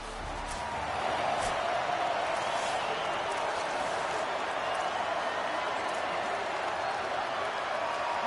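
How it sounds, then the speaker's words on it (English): A stadium crowd roars in a college football video game, a steady, dense wash of cheering that holds throughout, with a commentator's voice faintly underneath. "This crowd ready to make its presence known."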